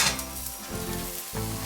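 A goose egg fries in a hot pan with a steady, close sizzle and crackle that rises again briefly near the end as it is flipped.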